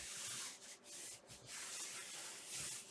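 Paper is smoothed down by hand during a laundry-themed home decor craft, giving soft continuous brushing rubs that swell and dip in short strokes, faint and close, with no talking.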